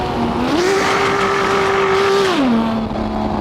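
A Lamborghini Miura P400SV in Assetto Corsa revs loudly up close. The engine note climbs suddenly as the gear shift is missed, holds a high whine for a couple of seconds, then drops back down.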